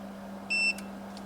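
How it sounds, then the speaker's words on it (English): A single short electronic key beep from an 80MHz scopemeter, clear and close, lasting about a fifth of a second over a low steady hum, followed by a faint click. "Now every time I hit a button, you can hear beep."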